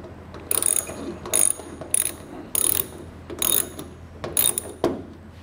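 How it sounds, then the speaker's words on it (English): A hand ratchet and socket tightening a bolt on a rubber bumper for an enclosed trailer ramp door, with about six short rapid clicking bursts, close and clear. "I'll come back with my ratchet and socket and continue to tighten it down."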